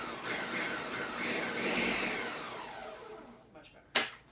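A food processor pulses a holiday pie filling made with real butter, a sustained whirring blade burst that swells and fades, followed by a few short clatters and one sharp knock near the end.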